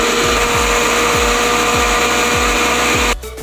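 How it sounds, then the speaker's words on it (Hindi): An electric kitchen grinder whirs loudly on leftover bread slice trimmings, making a steady high drone with a rhythmic thumping pulse about twice a second before it cuts off abruptly near the end. "ये इसको मैं ग्राइंड करके स्लाइस पे दोबारा लगाऊंगी"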